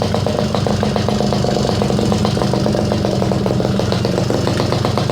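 A Garelli SSXL moped runs just after being kickstarted, its small engine chugging in a fast, even putter that stays loud and close throughout the short stretch, with no voices over it.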